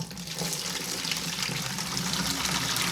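Hot water, recently boiled, pours steadily with a continuous gushing splash while bottling a Dunkelweizen beer kit, close and fairly loud with no talking.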